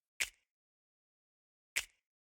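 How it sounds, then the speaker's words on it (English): Two crisp finger snap samples from Splice, prepared for pop drum programming, ring out about a second and a half apart, each a sharp, close, dry crack that fades quickly into silence. "those two snaps sound like this"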